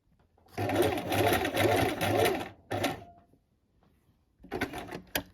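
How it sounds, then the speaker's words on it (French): A sewing machine stitches a trouser waistband in two long close bursts with a short pause between them, followed by a stretch of quiet and then a few shorter restarts. "vous allez continuer à 2 cm plus loin pour continuer à coudre votre ceinture."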